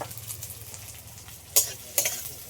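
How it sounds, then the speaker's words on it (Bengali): Sliced onions fry in mustard oil to make crisp birista for cauliflower biryani, a steady close sizzle broken by a couple of sharp utensil scrapes toward the end. "পেঁয়াজগুলো ভেজে আগে বেরেস্তা বাড়িয়ে নিই"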